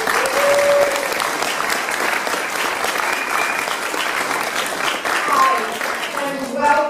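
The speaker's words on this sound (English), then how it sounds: "If you guys could please give a warm round of applause for a phenomenal organizer," Audience applause for an event organizer at a political gathering, a steady dense wash of clapping from a crowd that holds for the whole stretch, with a few faint voices and whistles rising above it.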